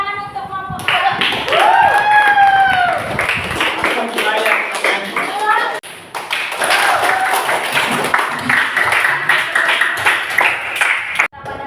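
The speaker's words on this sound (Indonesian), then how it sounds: "Tepuk tangan untuk kelompok Maharani." Classroom of students applauding a student group, dense hand clapping close by that carries on for several seconds with a brief dip midway, mixed with voices and chatter from the room.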